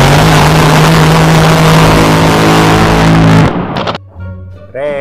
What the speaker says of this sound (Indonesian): Wah, kalau yang ini speedboat.